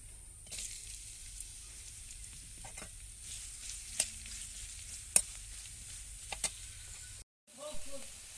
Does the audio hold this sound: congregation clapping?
no